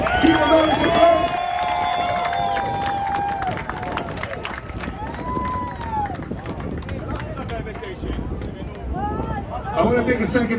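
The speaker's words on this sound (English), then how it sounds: "Give a round of applause right there, Israelis for Trump." A crowd at a pro-Trump rally cheers and shouts, with loud overlapping voices, whoops and rising calls swelling throughout and surging again toward the end.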